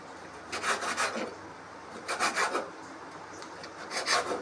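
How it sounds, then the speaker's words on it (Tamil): Knife cutting a washed kanava (squid) into small round pieces on a board, with short bursts of scraping, rasping strokes in three separate clusters, close and moderately quiet, with no talk. "இதை வந்து இந்த மாதிரி குட்டி குட்டியாக அரிஞ்சு எடுத்துக்கலாம்"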